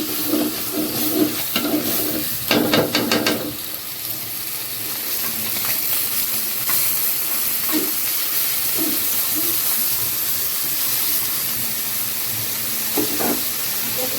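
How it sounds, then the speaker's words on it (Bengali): Spices stir-fry in a pan with a continuous sizzle, punctuated by bursts of rapid metallic scraping and clicking from stirring early on and occasional knocks later. "মশলা কষাইতেছি"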